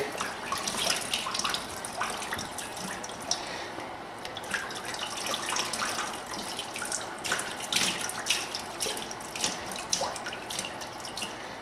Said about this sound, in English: Alright, let's do another rinse.